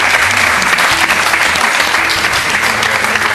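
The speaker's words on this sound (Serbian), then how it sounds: "Molim vas aplauz." A television studio audience claps loudly and steadily throughout, a dense, close wall of applause with no break.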